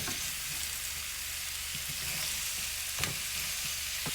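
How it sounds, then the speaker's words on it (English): Lobster halves frying in a pan for cheesy grits: a continuous, fairly quiet broadband sizzle with a few faint stirring or shifting sounds and one small clack, close by, no speech. "I cut the lobster in half. So you want to lay it down in the pan to make sure that it's cooking."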